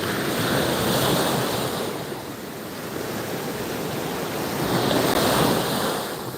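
Gulf of Mexico surf at Pensacola Beach, Florida, rolls in as a continuous wash of breaking waves, swelling louder at the start and again near the end, with some wind rumble on the microphone and no talking.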